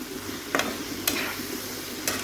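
Tomato chutney is stirred in a pan after salt goes in, with a soft steady sizzle and a few sharp scrapes of a spoon against the pan.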